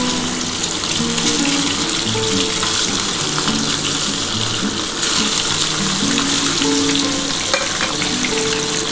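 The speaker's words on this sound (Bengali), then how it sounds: "এবার আমি ডিমগুলো কিন্তু ভেজে নিচ্ছি।" Turmeric- and salt-coated eggs fry in hot oil, a loud, dense, continuous sizzle and crackle close up, with occasional spatters and faint shifting as they settle in the pan.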